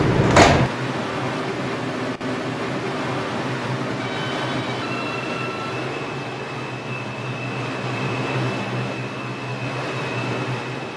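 An R142 subway train on the 4 line at a Bronx Concourse station, doors thudding shut and the train pulling away, steady rumble with rising motor whine and tonal hum, recorded close from inside the car.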